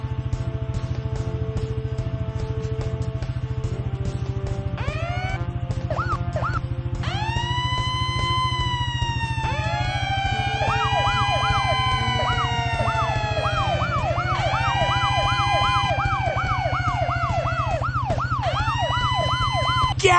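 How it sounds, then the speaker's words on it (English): Fire truck sirens in a children's firefighting rescue video game, several wailing electronic sirens switching on and off and overlapping in repeated rising and falling sweeps above a constant low engine hum. "Turn our sirens on and off."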